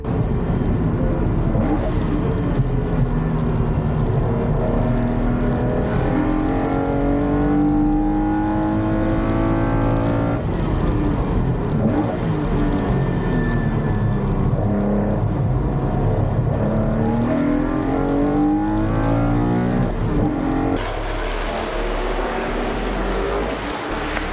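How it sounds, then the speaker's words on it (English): V8 race cars at a speedway push hard after a restart, a dense, continuous engine roar with shifting pitch as several cars accelerate and pass. "With the race restarted, Robert wastes no time, pushing hard for a strong start"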